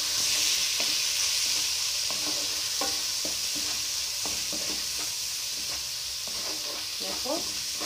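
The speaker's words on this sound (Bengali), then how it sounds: "লঙ্কাটা কিন্তু আমার ভাজা হয়ে গেছে" Chilies fry in a pan for a rohu fish and pointed gourd curry, a steady sizzle broken by repeated scraping spatula strokes as they are stirred.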